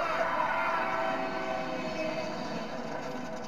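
A train rolls along near railway tracks, a steady rumbling roar with a faint tonal hum, fairly quiet and fading slightly toward the end, no talk.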